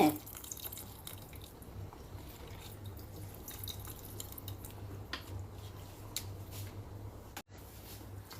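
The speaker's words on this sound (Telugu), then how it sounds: "చింతపండు నీళ్ళు పలచగా వేసుకుంటే" Tamarind water pours and drips steadily into a pot, a soft continuous watery trickle over a low background hum, with a brief drop-out near the end.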